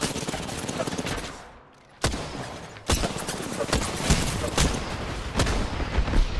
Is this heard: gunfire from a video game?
yes